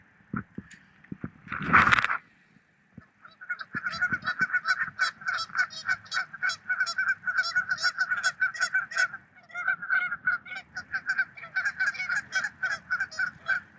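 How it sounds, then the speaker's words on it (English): A flock of geese honks repeatedly in rapid, overlapping bursts at moderate distance outdoors near water, following a sharp splash or knock at the start. "The geese are upset at each other over there."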